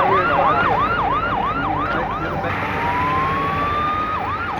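Ambulance siren wailing in a fast repeated rising yelp, then switching to a long slow rising wail before the yelp returns, loud and steady with traffic noise underneath.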